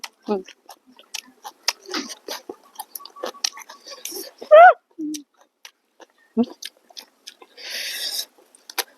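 Crisp, crunchy bites and chewing of fresh cos lettuce eaten with som tam papaya salad, close and intermittent, mixed with scattered speech and brief vocal sounds.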